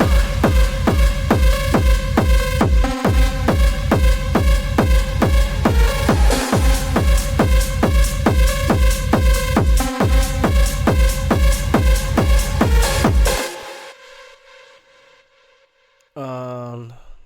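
A loud, driving techno drop pounds with a steady four-on-the-floor kick and dense layered synths, then cuts out abruptly near the end, leaving near-silence before a short burst.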